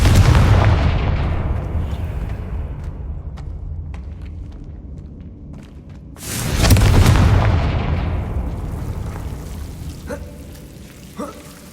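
Two Confringo spell explosions in Hogwarts Legacy, each a loud, booming blast that decays into a long crackling rumble. The second hits about six seconds after the first, followed by a few faint clicks and taps.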